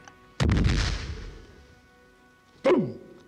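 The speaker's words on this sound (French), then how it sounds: "C'est cette salue de bombarde. Une idée italienne. Bombarda ! À cause du bruit." A medieval bombard cannon fires twice: a loud booming blast with a long rumbling decay, then a second sharp report near the end, set in a period drama siege.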